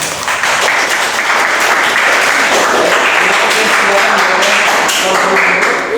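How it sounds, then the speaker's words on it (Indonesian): Audience applauding for a class 10 group at a school teaching-practice event, a dense, loud burst of clapping that fills the whole stretch without a break. "Beri aplaus yang meriah untuk kelas 10."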